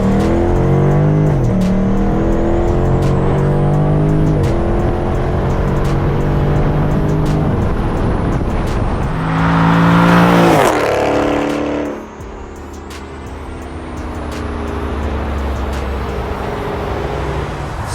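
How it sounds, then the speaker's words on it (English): A 2019 Dodge Charger Scat Pack launches from a roll and accelerates hard, engine roaring up through repeated gear changes, loud and close, then easing off as it settles. "I love launching this car"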